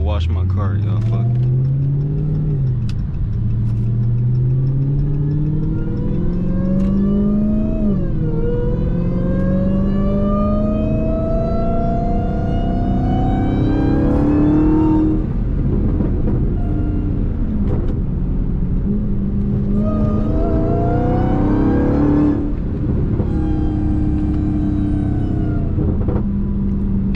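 Hellcat-powered Chrysler 300 with a mid-muffler delete, exhaust droning loudly inside the cabin as the engine climbs and falls through several gear pulls, with a throaty rumble throughout and someone talking over it.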